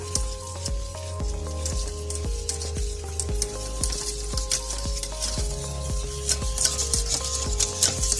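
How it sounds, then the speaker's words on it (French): A whisk beats flour into hot choux pastry dough in a saucepan just off the heat, making steady, rhythmic scraping and squishing strokes close up with a faint sizzle beneath. "Et on met la farine toute d'un coup. Voilà. Ensuite, alors tout d'abord, on mélange au fouet."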